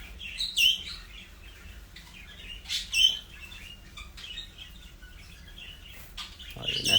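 English budgerigars at a breeder's bird farm chirp in scattered short, bright calls and trills over a quiet background, a few louder bursts standing out near the start and middle.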